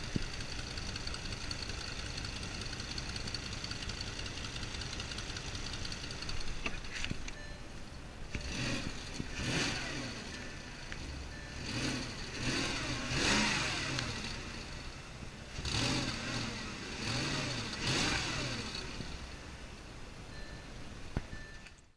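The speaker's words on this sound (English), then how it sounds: "There seems to be a muffler sound" A used Porsche Cayenne's engine runs with a muffler noise coming from the middle of the car. It holds a steady drone for about seven seconds, then swells in repeated revving surges.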